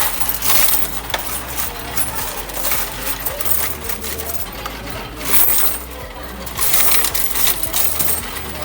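Three years of coins from a piggy bank pour into a bank's coin-counting machine, a dense continuous metallic clatter and jingle with the machine's churning hum beneath, loud and close throughout.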